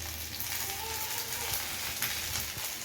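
Bhetki fish paturi fries in mustard oil in a pan, giving a steady, close sizzle and crackle with a few louder pops and spits.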